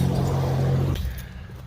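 A road vehicle passes close by, a low rumbling engine swell that quickly fades away.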